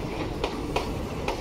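Hazarduari Express train at Ranaghat station: a steady, low rail rumble with a few light clicks recurring through the short stretch, with no voices.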